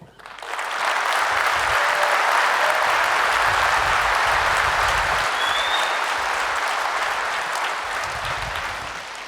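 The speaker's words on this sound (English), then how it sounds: "If you could please give him another great applause." A large audience at the EVE Fanfest 2014 keynote applauds, a dense sustained clapping that swells quickly and holds loud, with faint voices beneath.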